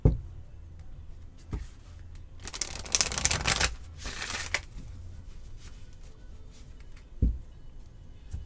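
Tarot deck shuffled by hand, a short papery riffle burst in the middle framed by quiet handling taps and a couple of soft thumps, close and faint.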